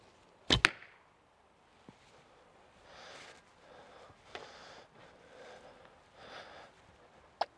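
An arrow loosed from a fiberglass or laminated Tatar bow strikes a target bag with a sharp, loud thwack, followed by quieter rustling and breathing and a second faint impact near the end.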